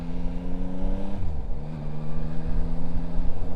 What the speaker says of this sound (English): Changing gears with the gearbox,